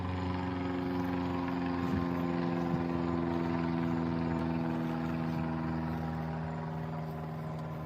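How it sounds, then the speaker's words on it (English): An aircraft passes overhead above a garden, a faint steady droning hum that fades slightly toward the end, with no voices. "Let me let the aircraft go ahead."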